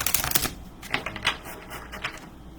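A quick, crisp riffle of tarot-style cards being shuffled, a rapid flutter of snaps up close, followed by a few softer taps and rustles.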